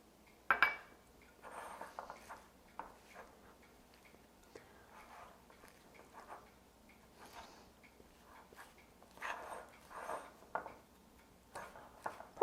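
Cream cheese and seasonings being stirred together in a bowl, giving soft scraping and clinking of a utensil against the dish in short irregular bursts, fairly quiet and close, with occasional faint whispery voice sounds.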